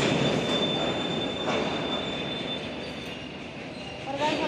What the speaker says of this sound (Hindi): ब्रेकिंग की आवाज़ है।